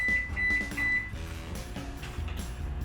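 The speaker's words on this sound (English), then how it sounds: "I'm gonna microwave." A kitchen microwave oven heats butter, giving a steady low hum with a brief high beep tone near the start and faint clatter nearby.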